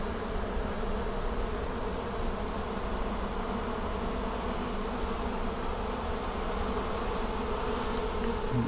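A dense swarm of honeybees buzzes steadily and close up as it is transferred from a bucket into a hive box, a continuous droning hum with no voices.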